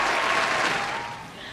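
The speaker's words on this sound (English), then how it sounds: "so let's clap it up for ourselves." A short burst of hand clapping, dense and close, fading slightly toward the end.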